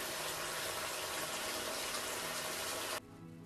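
Water splashed onto a face during an evening skincare wash, a continuous close wet rush that stops abruptly, leaving a quieter tail of soft dripping and room tone.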